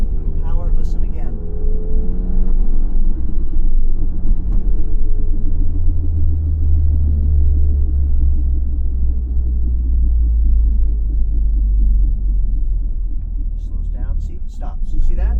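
A loud, continuous low rumble from a car chassis with a suspected failing rear wheel bearing, droning steadily while the car moves under light power and fading slightly toward the end.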